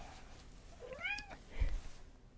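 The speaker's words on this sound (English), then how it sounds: "hello ASMR cat." A single short, rising-then-falling cat meow, close and clear against a quiet room, with a faint thump just after.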